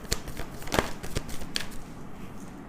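Tarot cards are shuffled and drawn from a deck up close, producing several quick riffling flicks and light snaps in an uneven rhythm before the sound fades to quiet.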